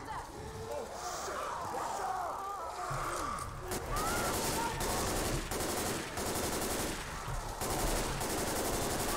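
Rapid gunfire from the video game Left 4 Dead 2, bursts of automatic shots rattling over game noise, with players talking over the action.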